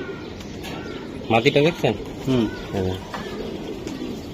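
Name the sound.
pigeons cooing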